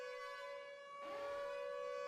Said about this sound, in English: I do want to get rid of the siren sound if it's something not as pressing